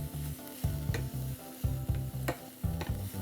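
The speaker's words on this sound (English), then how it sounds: "Give that a quick little stir." Garlic stirred through melted butter in a hot pan, a soft sizzle under repeated scraping strokes of a utensil in an uneven rhythm, close and fairly quiet.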